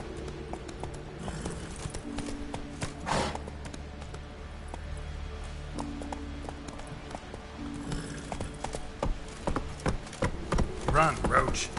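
Roach the horse gallops in The Witcher 3: Wild Hunt, a steady run of clip-clop hoofbeats that holds through the stretch over a sustained tonal backdrop and picks up sharper, louder impacts near the end.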